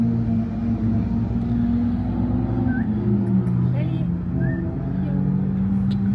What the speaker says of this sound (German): Da sind noch immer neue Autos, ne? Die haben die Runde noch nicht fertig.